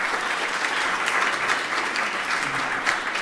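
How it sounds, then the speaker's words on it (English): Steady applause from a corporate audience for a new CEO, dense overlapping claps holding an even level throughout with no talking. "Please give our new CEO another warm round of applause."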